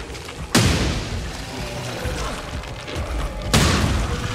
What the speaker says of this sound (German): Hier explodiert er nämlich.